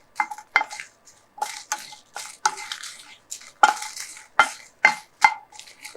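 Dried red chillies dry roasting in a pan for a taro root (seppankizhangu) podi curry, stirred with a utensil that scrapes and clinks against the metal in repeated short bursts, close and fairly loud, no talking.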